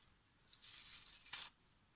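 Adhesive plastic strip with glue applied is peeled open for an album craft, giving a quiet, close crackling tear lasting about a second, followed by a short sharper rip.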